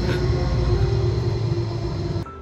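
A tram pulls in at a stop in Basel on a rainy evening, a steady close rumble and hum that ends with a brief clunk.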